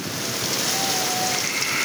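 Torrential storm rain lashing a city amid strong wind in Hyderabad, a steady dense roar of downpour and gusts filling the whole stretch with no letup, loud and close.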